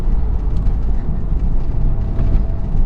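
Porsche 911 with PDK gearbox downshifting on paddle shifters, heard as a steady, loud low engine drone from inside the car, with no clear individual blips.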